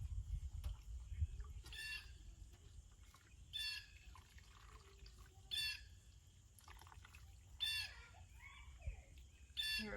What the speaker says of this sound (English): Hear a bird out there talking.